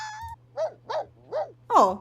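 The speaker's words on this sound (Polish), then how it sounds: "No taki szczek to nie pasuje do ciebie." A dog in The Sims 4 gives four short, raspy barks in a steady rhythm, close and clear, the last one loudest, over a low game hum.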